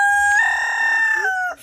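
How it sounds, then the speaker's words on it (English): Silver-laced Wyandotte rooster crowing once up close, a clear drawn-out call that rises, holds and trails off, heard alone with no talk. "What we're looking at here is 4 silver-laced Wyandotte chickens,"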